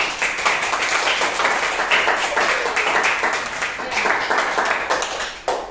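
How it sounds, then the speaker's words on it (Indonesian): Students in a classroom clap together after a chemistry battery experiment, a dense, steady wash of applause lasting several seconds and fading at the end. "tepuk tangannya untuk semua"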